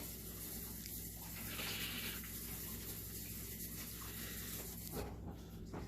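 Hands are washed under a running tap, a steady faint hiss of flowing water that continues throughout, with a small change in the splash near the end.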